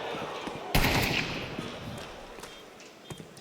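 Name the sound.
gunshots in Counter-Strike video game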